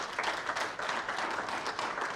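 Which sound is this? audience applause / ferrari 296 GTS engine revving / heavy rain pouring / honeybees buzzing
audience applause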